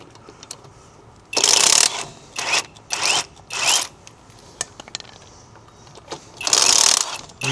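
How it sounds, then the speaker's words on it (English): Impact wrench taking lug nuts off a Nissan Silvia S15's wheels, firing in loud bursts: one long rattle, three shorter ones in quick succession, then another long burst after a pause, close by. "Now I'm gonna grab the impact socket and take off all 4 tires now"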